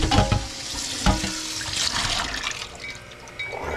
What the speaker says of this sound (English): Rinse the outside off.